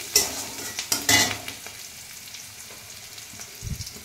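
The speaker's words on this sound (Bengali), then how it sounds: "যেহেতু কাঁচা রসুন একটু ভেজে নেব" Raw garlic frying in a pan, a soft steady sizzle beneath several sharp stirring scrapes and knocks of a utensil near the start, a low thump near the end, with no voices.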